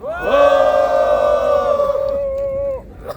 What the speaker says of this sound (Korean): 지금부터 초고령사회 노인 시민들이 요구하는 윤석열 즉각 파면 기자회견을 참가자 여러분의 힘찬 함성과 함께 시작하겠습니다.